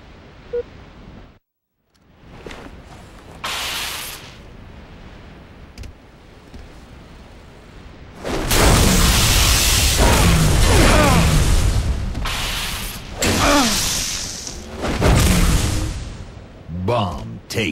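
A bomb detonation in the Halo Reach Grifball video game: a loud, sustained burst of explosive noise rises mid-clip and rumbles on for several seconds, with more bursts after it and people talking over the action.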